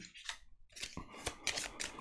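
Crisp riffling and snapping of playing cards being shuffled up close for a wargame, several quick bursts of papery flicks with short gaps between.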